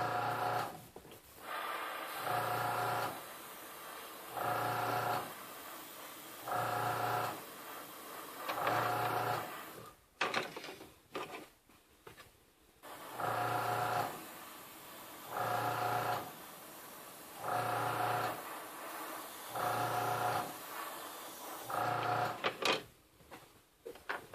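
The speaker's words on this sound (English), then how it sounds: "Works better with the compressor on." A small airbrush compressor cycles on and off while clear coat is sprayed onto a 1:48 scale Monogram F-4C Phantom model, giving a loud, regular pattern of humming bursts about every two seconds with no voices.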